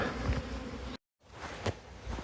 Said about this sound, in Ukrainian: бджоли всі на обліт вилетіли